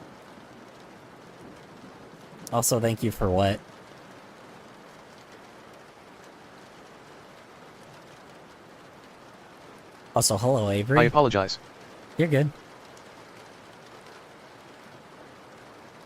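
Steady rain hiss runs throughout as a constant background wash, broken by a few short bursts of people talking.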